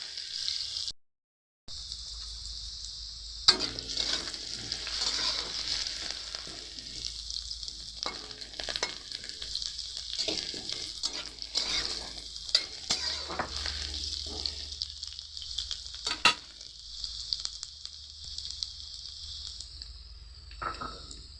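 Salted potatoes fry in hot oil, giving a steady close sizzle broken by repeated scraping stirs. A brief silent gap comes near the start.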